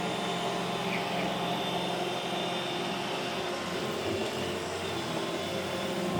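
An iRobot Roomba e5 (e5152) robot vacuum cleaner runs indoors with a steady, even whirring hum that holds constant and fairly close throughout.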